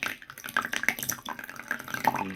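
Water poured into a teapot over Kabusecha shaded green tea leaves for a lower-temperature brew, a close, splashy trickle with bright droplet spatters lasting a couple of seconds.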